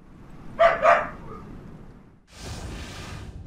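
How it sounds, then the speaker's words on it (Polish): Two sharp barks from a dog in the Learn to Fly game, close and fairly loud, then a stretch of steady broadband noise with no talking. "Ten głupi pies mi szczeka"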